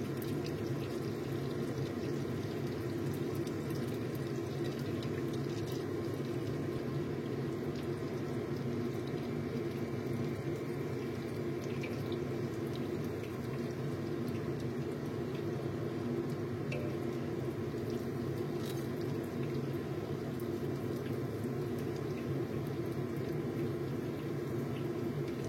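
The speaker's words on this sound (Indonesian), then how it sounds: "Kita goreng dulu yang nggak ada cabainya." An egg and tofu dish sizzles and spatters steadily in a frying pan, a dense continuous crackle heard close up with no talk.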